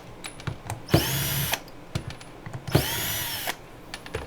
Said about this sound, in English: I got my drill right here. Put this in reverse.